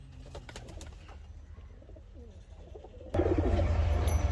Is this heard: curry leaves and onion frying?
no